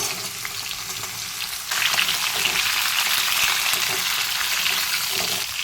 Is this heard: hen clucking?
no